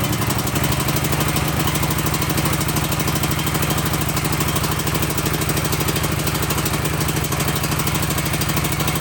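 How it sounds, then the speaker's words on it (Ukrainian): A portable generator's small engine idles steadily with an even, rapid chugging rhythm, loud and close, running unchanged throughout with no talking. "Після того, як завели генератор"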